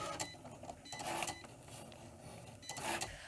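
A Cricut cutting machine cuts a design from fabric, producing quiet mechanical whirring and clicking as its carriage moves back and forth in short, uneven bursts.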